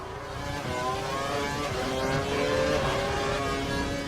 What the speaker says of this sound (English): Just hear that Mercedes engine, a Massa coming in from out of nowhere.